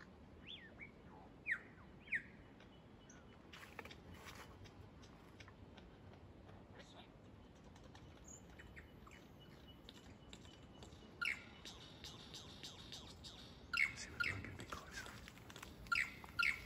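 A lyrebird in the Dandenong Ranges gives scattered, faint mimicked calls of other birds: short chirps and whistles early on, then a louder cluster of calls near the end, all over quiet forest background.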